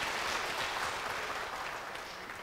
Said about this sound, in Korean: 우리 큰 박수로 다시 한번 격려하겠습니다.